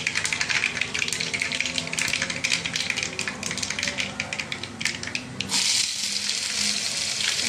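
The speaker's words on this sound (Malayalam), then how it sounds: "ഇതിൻ്റെ കൂടെ നമുക്ക് കുറച്ച് ചെറിയ ഉള്ളി അരിഞ്ഞത് കരിയേപ്പില വറ്റളമുളക് ഇതെല്ലാം കൂടെ ഇട്ട് മൂപ്പിച്ചെടുക്കാം" Chopped shallots, curry leaves and dried chillies fry in hot oil in a pan for mango pulissery, giving a dense crackling sizzle with scraping stirs before it settles into a steadier hiss, close and loud.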